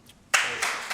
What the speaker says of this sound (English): It's nice to see the other side clapping as well.